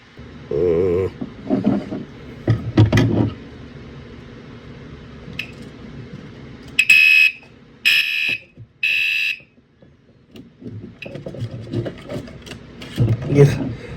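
A Gentex Commander 5 LED horn/strobe fire alarm blares in three loud, harsh bursts, between stretches of handling clatter and a person talking.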